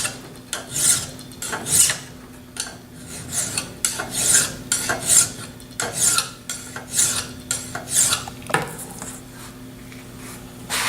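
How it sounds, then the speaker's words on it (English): Steady back-and-forth rasp of a file being draw-filed along a metal drill gauge, about ten rhythmic strokes, close and fairly loud with no speech. "Draw filing."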